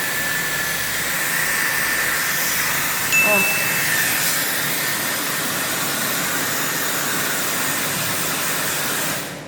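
A Dyson Airwrap hair styler blows a steady, loud rushing hiss of air close by, with a brief exclamation from a voice early on before cutting off.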